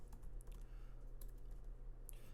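Fingers type on a computer keyboard, a quiet close run of soft key clicks with no talk over it.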